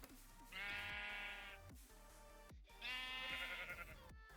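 Minecraft sheep bleating twice, each a drawn-out wavering baa about a second long with a pause between, clear and close with no talk.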